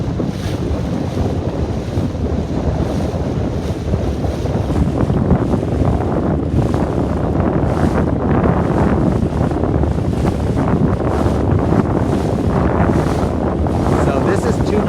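Steady wind roars across the microphone while sailing a 29er dinghy in breezy conditions, with continuous loud buffeting mixed with water rushing past the hull, unbroken for the whole stretch.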